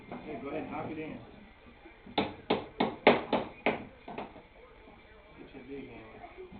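A hammer strikes wood while a bird house is being put together, about seven sharp, evenly spaced knocks in a quick burst, close and fairly loud, with people talking before and after the blows.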